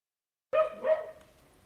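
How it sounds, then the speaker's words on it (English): A dog gives a short, sudden whimper-like yelp, then a second cry, and the sound fades into quiet. It is fairly close and heard alone with no talking. "What happened to your dog?"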